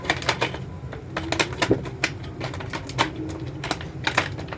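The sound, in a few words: cutting thick material with scissors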